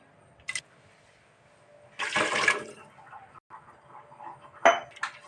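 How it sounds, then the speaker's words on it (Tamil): Water poured into a pot of rice for ghee rice in a home kitchen: a short splashing gush in the middle, with light clinks of a cup or utensils before and after. No one speaks. "ஒன்றரை கப் அரிசிக்கு மூணு கப் தண்ணி சேர்க்கணும்"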